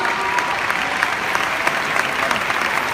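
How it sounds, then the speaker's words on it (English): A large convention audience applauds after a personal testimony, a steady, loud wash of clapping that holds evenly throughout with no voices on top. "give her another round of applause"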